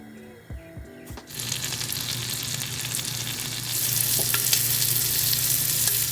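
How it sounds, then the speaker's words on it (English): Butter hitting a hot frying pan for a pier-caught fish cook, some clinks and handling noises first, then a sustained close hiss and sizzle that grows louder partway through, with no talking. "Butter in the pan."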